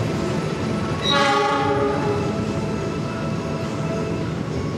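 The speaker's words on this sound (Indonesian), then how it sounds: "ini keretanya sebentar lagi berhenti di stasiun Cirebon Kejaksaan" The Argo Dwipangga passenger train rolls into Cirebon Kejaksaan station with a steady rumble and squealing brakes, long horizontal tones sliding as it slows, continuous and fairly loud.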